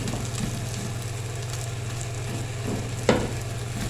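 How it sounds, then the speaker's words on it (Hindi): Fried shami kebabs get dropped into hot sizzling masala and broken up into mince, a continuous close sizzle and fry with light scraping stirs and one sharper knock, no voices. "अब इस टाइम पे हम इसमें डाल देंगे शामी कबाब जो हमने फ्राई किए थे और इनका बना देंगे कीमा"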